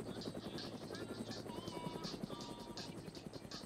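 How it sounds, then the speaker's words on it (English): A helicopter in the ARMA video game flies with a steady rapid rotor chop throughout, moderately loud and continuous. "There's a chopper!"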